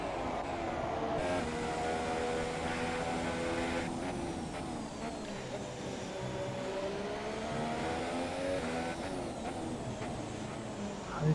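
Ferrari and Haas race cars in a racing video game, engines droning and shifting pitch continuously as they run close together, a steady loud mechanical roar with gear changes and no talk.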